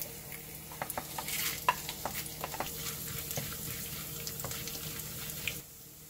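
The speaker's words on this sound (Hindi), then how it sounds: "सबसे पहले जो हमने चने की दाल ली हुई है उसको फ्राई करेंगे" Chana dal fries in hot oil, a soft, quiet sizzle broken by light irregular stirring clicks and scrapes close by, with no voices.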